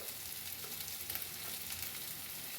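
Ground coriander and cumin powder fry in a pan, giving a soft, steady hiss and sizzle with faint stirring, quiet and continuous, with no talk.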